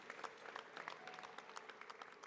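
An audience at a children's tribute event keeps up steady, dense clapping, fairly quiet and distant, with no single voice standing out.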